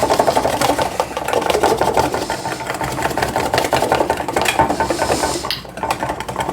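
A whisk beats egg yolks, lemon juice and garlic in a bowl over heat for aioli, making a rapid, steady ticking and scraping that continues briskly for several seconds and eases slightly near the end.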